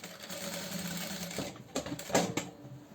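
A sewing machine backstitches right at the edge of a fabric organizer basket, a brief close mechanical whirr with a few clacking stops at the end, and no voices.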